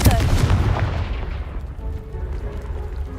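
Confringo spell blast from Hogwarts Legacy, a loud booming burst up front that rumbles and decays over a few seconds, with a faint low tail afterward.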